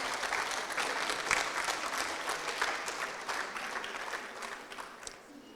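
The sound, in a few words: audience applauding the restaurant team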